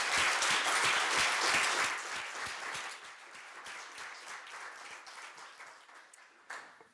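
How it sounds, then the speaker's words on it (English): An audience at a doctoral thesis defense on engineering antivenom applauds in a dense, sustained burst that gradually thins and softens over several seconds. "give him a big round of applause, Professor Andreas Hougaard, Laustsen, Kiel."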